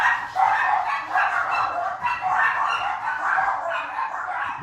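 Several dogs bark in a steady run of repeated, fairly loud yaps and woofs, evenly spaced over nearly five seconds, with no talking over them.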